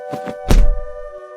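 A seagull struck with a wooden staff in a tabletop role-play game: a single dull thunk lands mid-clip over a steady sustained background tone, with a couple of softer taps just before it.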